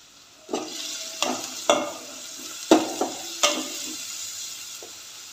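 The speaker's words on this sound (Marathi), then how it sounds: "कांद्याला मस्त गोल्डन ब्राऊन कलर येईपर्यंत आपल्याला परतून घ्यायचं आहे" Finely chopped onions sautéing in oil in a pan for egg rice: a soft sizzle broken by several sharp spatula clacks and scrapes against the pan, close by, with no speech.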